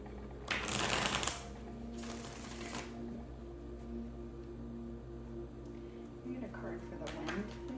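Tarot cards shuffled by hand, two quick riffling bursts near the start, then softer card handling further on, all under a low steady hum with a voice speaking quietly throughout.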